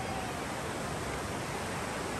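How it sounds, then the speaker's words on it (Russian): A waterfall and powerful river in Saklikent gorge, Turkey, heard as a dense, even rush of falling water that holds constant and fairly close without any voices. "Вот вы видите живописный водопад"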